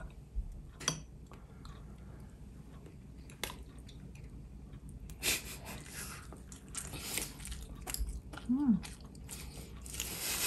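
Close, soft chewing of homemade castella sponge cake with moist squishy bites and small clicks, intermittent over a quiet room, with one short vocal sound near the end.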